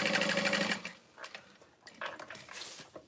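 Domestic sewing machine stitching divided slip pockets about an eighth of an inch either side of a center line on a mini bowler bag, a steady close whirring burst for the first second, then lighter clicks and handling noises.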